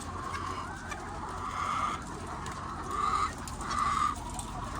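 Laying hens cluck in a poultry house during egg collection, repeated murmuring bursts of clucking rising and falling over a low background hum.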